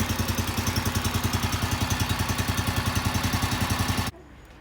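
A BCS Ferrari 740/340 walk-behind tractor engine runs steadily and evenly with a loud, close, regular pulsing chug for about four seconds, then cuts off abruptly into quiet.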